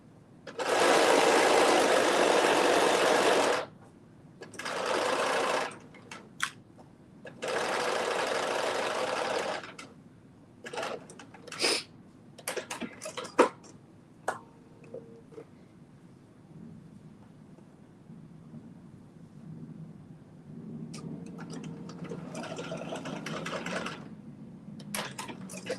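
Sewing machine hemming fabric with a hemmer foot: three loud, steady bursts of stitching at the start, then scattered clicks and handling noises, and a softer run of machine hum toward the end, close by.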